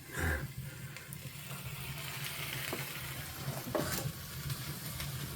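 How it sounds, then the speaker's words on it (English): Vegan stuffed peppers sizzle on a wood stove during a winter storm power outage, a steady faint crackling hiss running throughout with a few small pops. "It sure is sizzling."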